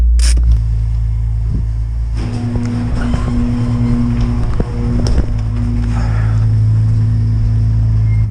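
Loud, raspy exhaust note from an Acura TL SH-AWD with an RV6 exhaust fitted, a deep steady idle rumble broken by several sharp throttle blips and revs close by.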